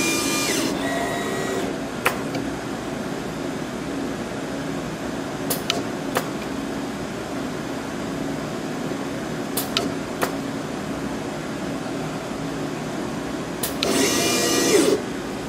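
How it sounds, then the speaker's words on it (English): Automated PCB blow-clean and soldering machine cycling through its program: a steady mechanical hum throughout, punctuated by several sharp clicks and a loud hiss of air near the end. "we will run the program. It will blow clean in our blow station prior to soldering"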